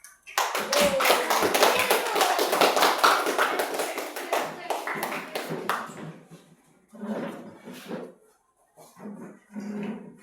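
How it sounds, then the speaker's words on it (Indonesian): A classroom of students claps for a student group after its presentation. Dense, loud clapping runs for about six seconds, then thins into a few scattered bursts with murmured voices. "kita berikan aplaus"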